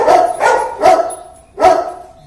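Hunterway, a New Zealand sheep-herding breed, barks loudly and close by in four evenly spaced, forceful woofs, alone with no talk.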